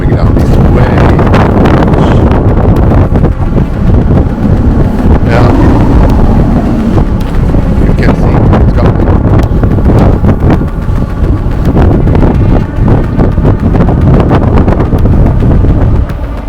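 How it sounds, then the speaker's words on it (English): Strong katabatic wind howls and buffets a sailboat at anchor in Lofoten, a loud, continuous roar with gusting wind noise on the microphone throughout. "we decided that we can't stay on this anchorage because the katabatic wind that is coming down is way"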